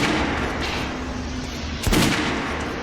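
Gunshots at a shooting range in the video game Metro Last Light Redux, one sharp loud report standing out over a dense, constant rumbling background.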